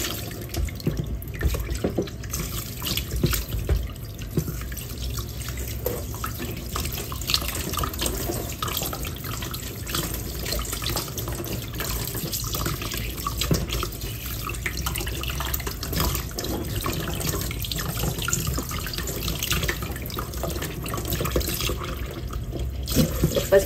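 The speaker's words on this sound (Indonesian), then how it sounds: "Daging lembu yang dah saya bilas tadi dengan air" Beef is rinsed under running tap water while pekasam is being made, a steady close stream splashing into a sink with small shifting splashes throughout.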